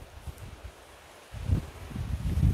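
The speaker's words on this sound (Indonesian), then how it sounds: "Angin lagi." Wind gusts through a forest on a late afternoon, buffeting the microphone with low rumbling bursts that grow stronger and more continuous in the second half, with no voices.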